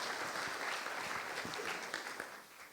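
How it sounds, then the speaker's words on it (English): A congregation claps together at a church service honoring a congregational life facilitator, a dense, steady wash of applause that stays fairly even throughout. "Just keep clapping all day long, yeah."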